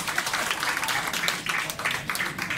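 Audience applause at a year-end charity event for the elderly, co-hosted by a Lions Club district, a steady sustained clapping from a crowd that fills the whole stretch without talk.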